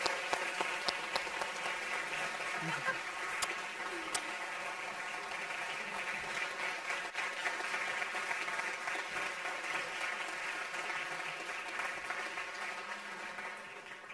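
Steady audience applause fills a university research-talk competition's award ceremony as the second prize is announced, a dense, even wash of clapping that holds for the whole stretch at moderate distance with no talk over it.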